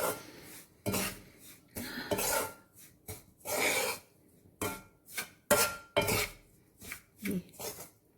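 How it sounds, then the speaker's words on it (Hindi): A metal spoon scrapes and stirs semolina roasting in a pan for suji halwa, making a series of sharp, irregular scraping bursts with short pauses between them, close and fairly loud, with no voices. "मुसलसल चम्मच चलाते रहना है"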